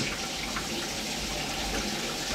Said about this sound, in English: What I want to do is run the hot water